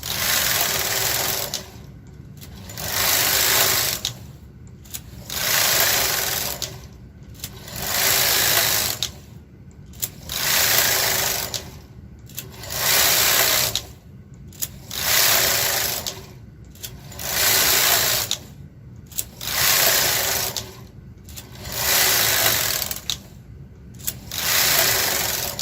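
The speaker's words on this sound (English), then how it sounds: "We are now going to knit across. So 15 rows total." A KH 230 knitting machine knits across rows, each pass a loud rasping whoosh of the carriage lasting about two seconds, repeated about ten times in a steady rhythm with short gaps and clicks between passes, with no talk.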